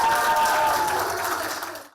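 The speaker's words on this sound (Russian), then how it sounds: "Благодарные зрители, они тоже заключенные, порой превращали аплодисменты в бурные овации." Applause from an audience of prisoners at a stage performance in a Kyrgyz penal colony: dense, sustained clapping that rises to an ovation, then fades out near the end.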